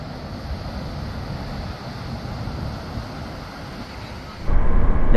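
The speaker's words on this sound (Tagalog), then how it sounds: "Kalakas pa rin ng alon." Strong waves at Dingalan make a steady broadband roar of surf with wind, constant and fairly loud, rising sharply in the last second; no one speaks.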